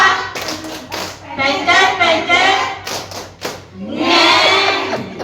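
A class plays a rhythmic clapping game during a teacher training session, with bursts of group clapping and tapping mixed with chanting voices and a teacher speaking.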